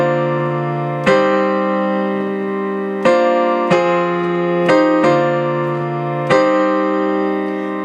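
Sustained piano chords from a song, played as full ringing chords that change every second or two, loud and close with nothing over them.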